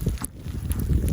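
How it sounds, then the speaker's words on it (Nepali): Cold winter storm wind during heavy snowfall, gusting and buffeting hard against the microphone in loud, low rumbling bursts, with no voices. "विन्टर स्टोम चिसो हावा पुरै मुठी छेड्ने खालको मान्छेले ढल्छ यसले त"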